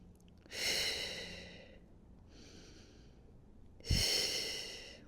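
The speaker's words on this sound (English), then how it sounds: "And breathe." Slow, controlled breathing during a Pilates plank in an upper-body strength workout: a long breathy exhale, a softer breath, then another strong exhale, heard close and alone.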